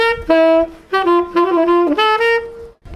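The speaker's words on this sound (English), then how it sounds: "a saxophone being played" A saxophone plays a short jazzy phrase of bright, sustained notes, close and solo, ending with a brief breath of quiet.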